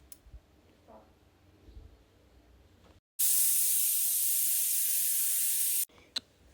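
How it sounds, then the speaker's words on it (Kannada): A pressure cooker with chickpeas lets off a loud, steady hissing whistle for about three seconds, cutting in sharply and stopping abruptly, with quiet clicks and faint kitchen noise around it. "1 ಲೋಟ ನೀರು ಹಾಕ್ಬಿಟ್ಟು ಇವಾಗ ಮುಚ್ಚಿಬಿಟ್ಟು 1 ಅಥವಾ 2 ವಿಷಲ್ ಕೂಗಿಸ್ಬೇಕು."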